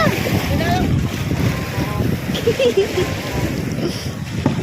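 Rough, choppy sea washes around a small boat, with gusty wind buffeting the microphone and faint voices in the background.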